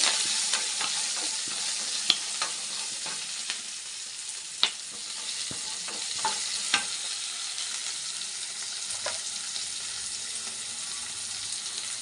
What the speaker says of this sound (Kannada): ಕರಿಬೇವಿನ ಸೊಪ್ಪು ಚೆನ್ನಾಗಿ ಫ್ರೈ ಮಾಡಬೇಕು ಸರ್.